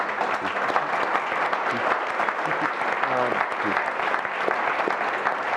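A conference audience claps steadily and loudly for the speakers throughout, with a few voices faintly audible beneath the applause.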